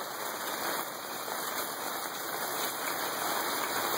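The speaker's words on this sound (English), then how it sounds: "It really doesn't take long for it to fill up in a rain like this." Steady, close rain falls around a rain barrel, a dense even patter with no breaks across the whole stretch.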